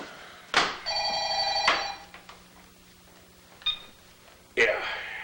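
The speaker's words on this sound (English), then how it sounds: "he receives a taunting phone call" A telephone bell rings loudly in a film scene, two sharp rings separated by a pause, followed by brief clatter and a voice speaking.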